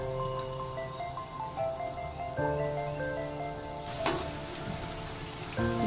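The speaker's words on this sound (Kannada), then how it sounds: "ಎಣ್ಣೆಯಲ್ಲಿ ನಾವು ಸಿಮ್ಮಲ್ಲಿ ಮೀಡಿಯಂ ಸ್ಟವ್ನಲ್ಲಿ ಇಟ್ಕೊಂಡು ನಾವು ಡೀಪ್ ಫ್ರೈ ಮಾಡಬೇಕು" Thin potato slices deep-fry in hot oil on a medium flame, giving a steady, soft sizzle with quiet crackling and a brief sharp clink midway.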